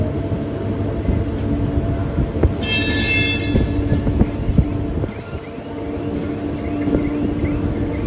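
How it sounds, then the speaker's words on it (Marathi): The Tejas Express, a Mumbai–Nizamuddin train, runs fast past a Mumbai station with a loud steady rumble of wheels on rail, a burst of high squeal partway through and continuous clatter. "ही बाई तेजस आहे, ते पण फास्ट जाते."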